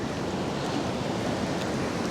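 Spring meltwater rushing over a controlled water drop at the west end of Elliot Lake, heard as a steady, dense, unbroken roar with no voices.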